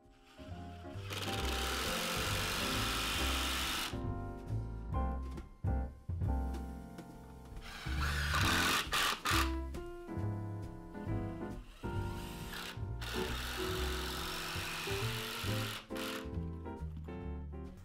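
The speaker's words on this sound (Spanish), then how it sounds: "Atornilla la base comenzando con la pieza central." A power drill drives screws into the wooden base pieces of a window seat, its motor whirring in repeated bursts with short pauses between them, close and fairly loud.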